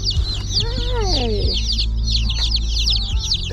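Newly arrived baby chicks from a chicken order peep in a dense, continuous chorus of high chirps, with a few louder calls and soft clucks close by.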